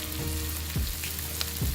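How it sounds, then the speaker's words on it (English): Chicken noodles stir-fried in a hot pan give a steady close sizzle, with a few soft scraping strokes of stirring across a short stretch and no talking. "start stir frying the noodles"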